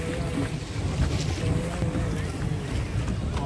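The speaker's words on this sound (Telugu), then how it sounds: "Sims Park Koonurlo boating pedal boat" A pedal boat moves on the lake at Sims Park in Coonoor, with a close, continuous rumble of water and wind buffeting the microphone as people talk nearby.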